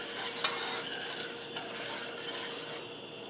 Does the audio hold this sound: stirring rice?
yes